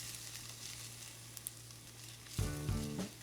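Garlic, caraway seeds and celery frying in a pan, a quiet steady sizzle with a low hum underneath, then a louder burst of crackling and stirring near the end.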